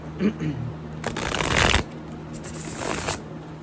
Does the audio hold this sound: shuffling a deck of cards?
yes